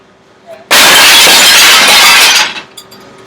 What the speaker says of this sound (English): If you want to break glass, should you use a fucking brick?